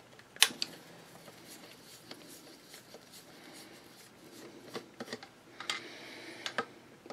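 A screwdriver loosens screws on a bobbin winder from a 201-2 sewing machine, producing sparse close metallic clicks and scraping ticks with quiet gaps between them.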